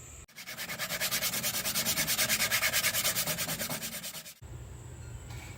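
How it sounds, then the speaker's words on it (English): Wooden bed slats from a 2006 Honda Odyssey camper are sanded in a quick, even back-and-forth rhythm that runs for about four seconds, loud and close, and then stops abruptly. "we sanded some of the slats here to round them"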